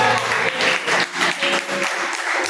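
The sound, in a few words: congregation applause in church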